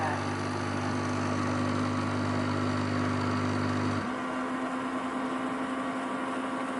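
A robot mop starting its cleaning cycle and filling with water, giving a steady mechanical hum with a pump drone that changes pitch partway through, close and continuous.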